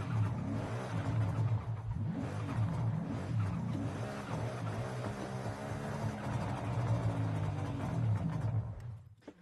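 Ford Mustang engine revving in Forza Horizon 5, a loud, steady low rumble with rising and falling revs and tire noise, continuous throughout and cutting off sharply at the end, no voices.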